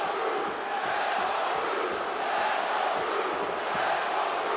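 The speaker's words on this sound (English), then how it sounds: "there's definitely competing cheering going on" Arena crowd cheering for two competing fighters at a UFC bout between Dominick Cruz and Urijah Faber, a steady dense roar of many voices with no break, heard alone without clear talk.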